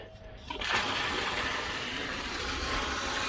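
Water gushes from a hose into a calf's water trough on a farm, starting abruptly after a half-second and continuing as a steady, loud splashing rush.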